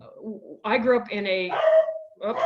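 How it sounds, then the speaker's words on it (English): A pet dog barks and yelps in a home while a person keeps talking over it, the dog's voice rising into a drawn-out whine before a short break and another bark. "that's my dog. Sorry about that."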